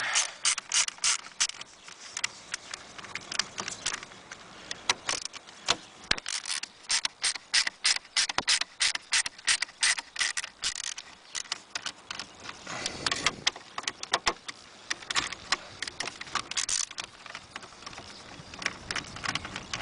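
A hand ratchet clicks in quick, loud bursts while bolts are removed from the steering column of a 1989 Jeep Cherokee, close up, with brief pauses between runs of clicking.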